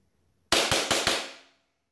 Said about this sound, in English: Let's do a few quick shots.